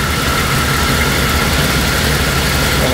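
A van engine idling just after being started while cold, a loud, steady, close rumble with a constant hum and no talk.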